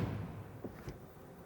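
The door of a Mercedes-Benz EQS electric sedan in AMG Line trim closes with a short, solid low thud and a faint click, heard once up close in quiet surroundings.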